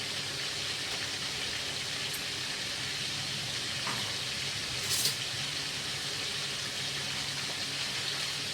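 Duck fries in a pan with an even, continuous sizzle and crackle like steady rain, quiet and close, and no voices over it.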